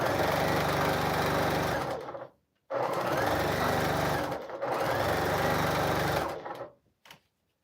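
A sewing machine stitching quilt pieces in three long bursts of rapid, even running, each stopping abruptly with short pauses between, close and loud.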